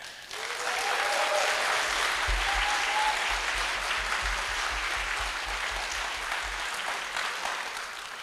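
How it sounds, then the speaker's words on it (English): Steady, full audience applause at a game awards show, sustained dense clapping from a large crowd lasting several seconds with low rhythmic thumps underneath. "how about a big round of applause for the amazing creativity, the amazing games that we've seen showcased here tonight"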